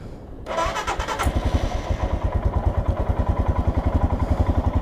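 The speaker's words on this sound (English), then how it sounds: "when I watch how I start my bike, it sounds like I'm doing it completely wrong and aggressively" A motorcycle engine cranks and catches after a brief pause, then settles into a loud, steady, throbbing idle with a regular pulsing beat.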